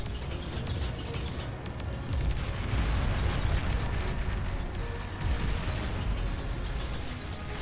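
A bombing run in the strategy game Beyond All Reason lands as a dense, continuous rumble of overlapping explosions and booms, swelling and easing in loudness with no talk.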